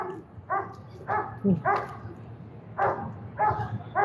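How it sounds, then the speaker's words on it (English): Shepherd-type police dogs bark excitedly during a downtown Vancouver police standoff, a rapid string of sharp, harmonic barks and yips, fairly close and loud, with street ambience underneath. "Okay, the dog sounds super agitated."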